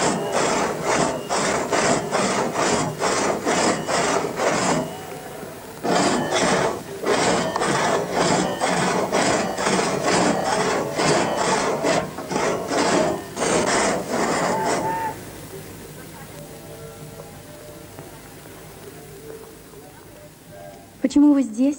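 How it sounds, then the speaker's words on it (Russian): A two-handed saw rasps through wood in quick rhythmic back-and-forth strokes, two bursts separated by a short pause, then fading into quieter sounds. "Давайте пилить вместе."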